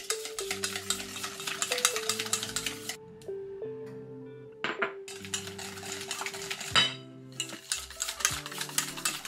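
Egg yolks being stirred into cream cheese in a bowl, with a whisk or spatula clinking and scraping against the bowl in quick rhythmic bursts, pausing briefly before resuming, close and fairly quiet.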